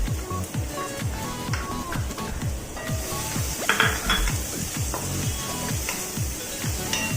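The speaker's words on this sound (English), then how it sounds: "Just listen to this sizzle." Steady crackling sizzle of onions in a hot pan over high flame, fairly loud and continuous, with occasional clinks of a utensil against the cookware.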